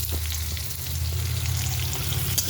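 Spicy curry with six or seven green chillies fries in a pan, a loud continuous sizzle over a low hum, with faint stirring scrapes and one sharper clink near the end.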